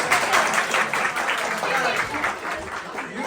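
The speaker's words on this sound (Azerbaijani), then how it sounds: "Alqışlayaq" Applause at a farewell evening gathering for an Azerbaijani activist, a room full of steady clapping at moderate loudness, continuous with rhythmic pulses and voices mixed in.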